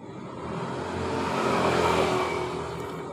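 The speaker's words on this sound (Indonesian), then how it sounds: "bunyi kemericik di sekitar silinder head" A Honda Supra X motorcycle engine runs with a harsh, rough rattle around the cylinder head, a continuous gritty mechanical clatter that swells slightly as it revs, heard close with no talking.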